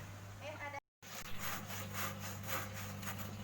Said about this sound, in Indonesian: proses untuk pembuatan support-supportnya kita gergaji dulu, potong-potong sesuai dengan ukurannya